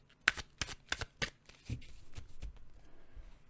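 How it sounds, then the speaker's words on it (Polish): Tarot cards being shuffled by hand, a quick series of sharp riffling snaps and flutters close up, followed by softer sliding rustles as the deck settles. "karty tasowałam przedtem z krótką medytacją, natomiast jeszcze raz."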